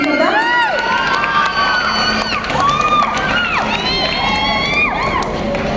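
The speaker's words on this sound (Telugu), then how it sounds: "మరొకసారి గట్టిగా చప్పట్లు కొడుతూ గంగవ్వని స్టేజ్ మీదకి తీసుకుందాం" A crowd cheers loudly and continuously with shouts, whoops and children's high-pitched yells as Gangavva comes on stage at a Telangana women's excellence award event.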